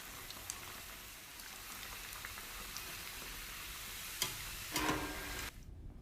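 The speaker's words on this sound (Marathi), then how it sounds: "बाकीचे पण घेऊया तळून." Samosas deep-frying in hot oil make a steady, dense sizzle that carries through the whole stretch, with a few brief crackling bursts near the end before the sound cuts off abruptly.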